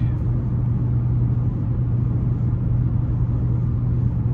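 A 2015 Chevrolet Impala LT 2.5 cruises on the road at about 60 mph, its engine and tires making a steady, even low rumble with a constant hum that never changes through the stretch.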